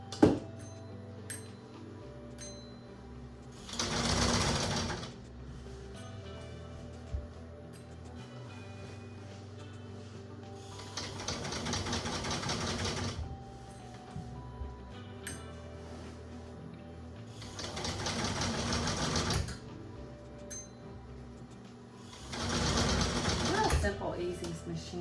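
Sewing machine running in several loud bursts of fast stitching through wide blackout drape fabric, two 54-inch widths for butterfly pleated curtains, with quieter stretches between runs where a person talks.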